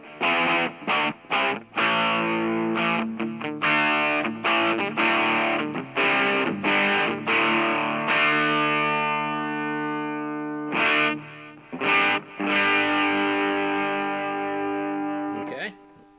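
Distorted electric guitar plays through two small 1-inch speakers: a run of short, punchy chord stabs, then long sustained chords ringing out and fading, loud and close, with a final brief stab.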